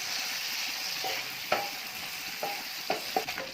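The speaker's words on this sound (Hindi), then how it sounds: "अब इसको अच्छे से हम करेंगे मिक्स" Macaroni mixture with vinegar and soy sauce stirred in a hot pan: a continuous soft sizzle under a handful of distinct spoon clinks and scrapes against the pan, close and unaccompanied by talk.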